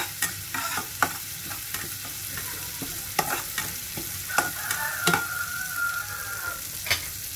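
A ground paste of shallot, garlic and pepper stirred into a pot for chicken meatball vegetable soup, with steady scraping spoon strokes over a soft sizzle and a brief high hiss near the end, close and alone.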